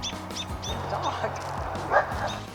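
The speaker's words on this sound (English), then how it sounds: "Dog." A dog on a flower farm gives a rapid series of yips and short barks with some whimpering, close and fairly loud, while a person talks over it.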